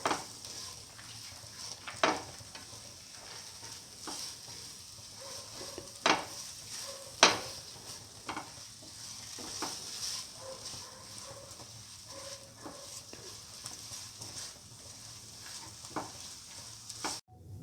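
Tomato pieces for a soy chunk and fenugreek leaf noodle bowl are sautéed and crushed in a pan: a low continuous sizzle with scattered sharp clinks and scrapes of a utensil against the pan, near and moderately quiet.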